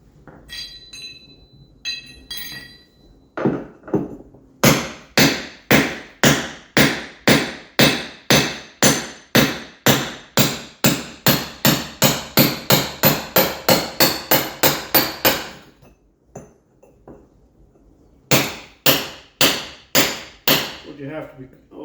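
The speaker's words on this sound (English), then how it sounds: "this concrete block on the right-hand side, I'm going to have to chisel out. So I'm using a heavy hammer, cold chisel." A heavy hammer drives a cold chisel into a concrete block beside a front door opening, giving a long, steady run of sharp metallic strikes. It pauses briefly, then a few more blows follow, close and loud.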